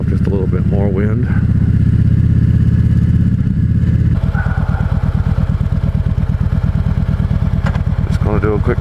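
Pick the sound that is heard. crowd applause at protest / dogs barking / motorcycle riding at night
motorcycle riding at night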